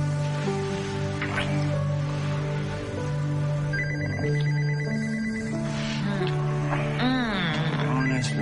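Telephone ringing in a room, repeated electronic ring bursts sounding over a busy background of music and ambience, near and clear.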